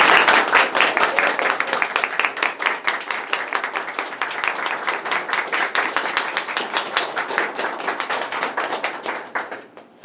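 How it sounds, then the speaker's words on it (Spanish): Small audience at a Ladies in White gathering in Santa Clara, Cuba, clapping after a vote, with distinct individual claps in a quick irregular patter, fairly close and steady before tapering off at the end. "y quiero pedir un aplauso para Berta Soler."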